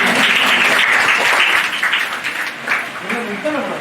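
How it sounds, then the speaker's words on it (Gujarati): Audience applause at a mehndi competition held by a Naik Maratha community service association, a loud sustained wash of clapping that swells and dips slightly, with a voice speaking over it toward the end. "આપણે એક જોરદાર રીતે તાળીઓને ગડગડાટથી વધાવીએ"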